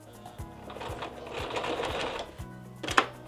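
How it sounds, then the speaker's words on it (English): A sewing machine stitches a fabric pocket onto a pair of shorts, giving a steady close rhythmic chatter of needle strokes that ends with a brief clack. "we're going to sew almost all the way around"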